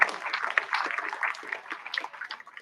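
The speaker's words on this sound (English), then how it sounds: "another round of applause" Applause from the audience at a university graduation congregation, a scattered patter of hands that stays moderate and fairly distant, thinning out toward the end.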